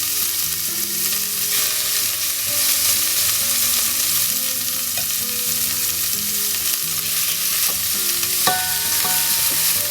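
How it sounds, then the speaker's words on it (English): Steady, loud sizzling of rump steak frying in a hot pan, a dense crackle that holds for the whole stretch with a few sharper pops near the end. "pan's now nice and hot, so I'm going to put in my first batch of meat"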